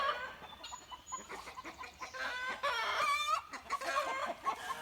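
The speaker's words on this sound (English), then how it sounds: "This rooster here." A big, handsome rooster clucks and calls in a run with other chickens and guinea fowl, busy fowl chatter with short squawks and a crow-like burst, close and fairly loud.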